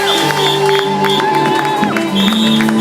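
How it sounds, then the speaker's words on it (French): Worshippers at a church jubilee service cheer and shout joyfully for Jesus, a loud, unbroken wall of crowd voices and whoops layered over held musical chords. "Des cris de joie pour Jésus."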